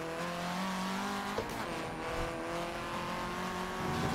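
A race car engine in Forza Motorsport 7 roars steadily with squealing tires layered over it during a drift, a continuous mechanical drone with sustained tonal whine and a brief skid partway through.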